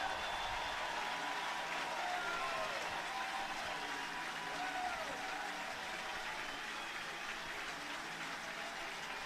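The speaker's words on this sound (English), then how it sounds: "Let's listen to this crowd salute one of their favorite sons." Stadium crowd at an NCAA baseball super regional in Chapel Hill gives sustained, steady applause as pitcher Knapp leaves the game, a broad distant wash of clapping with faint voices mixed in.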